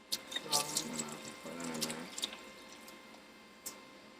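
Tap water runs and splashes into a sink while djondjon mushrooms are rinsed for a tofu soup, a soft continuous flow with small clinks and drips that fades toward the end.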